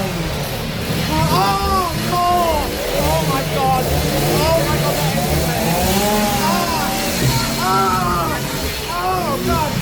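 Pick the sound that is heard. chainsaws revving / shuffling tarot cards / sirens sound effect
chainsaws revving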